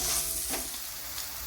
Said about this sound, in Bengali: এই মশলাটাকে একটু ভালো করে ভেজে নিতে হবে, যাতে কাঁচা মশলার গন্ধগুলো চলে যেতে পারে